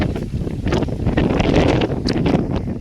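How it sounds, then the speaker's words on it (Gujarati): Strong gusting wind on a farm buffets the microphone with loud, rumbling low-frequency blasts and some rustling of shaking jamun trees, continuous and close. "બહુ પવન છે"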